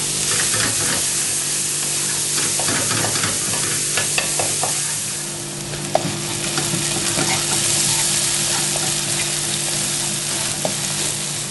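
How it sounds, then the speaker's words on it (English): Onion cooks in butter in a pan, giving a loud, continuous close-up sizzle with occasional stirring scrapes and pops. "Just going to put a bit of butter in there. And tip in the onion."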